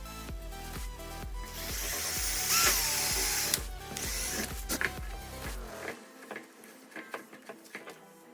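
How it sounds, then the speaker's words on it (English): A drill whirs and grinds in bursts as it bores a pilot hole into a piece of wood, with mechanical rattling, then trails off into scattered clicks and handling noises. "I'm gonna go ahead and drill my pilot hole in the top"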